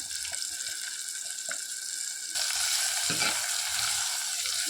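Tomatoes, garlic, dried red chilies, curry leaves and asafoetida sautéing in a pan for pepper rasam, a steady bright sizzle that jumps louder partway through, with occasional soft stirring scrapes.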